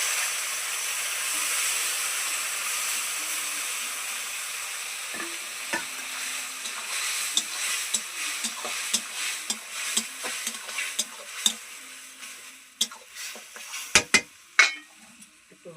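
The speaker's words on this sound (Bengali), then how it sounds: "মশলাগুলো ঢেলে দিলাম যাতে লাল করে একটু ভেজে নিব।" Ground spice paste sizzles steadily in a hot pan before meat goes in, a constant hiss broken by sharp pops, scrapes and clicks of stirring that grow busier toward the end.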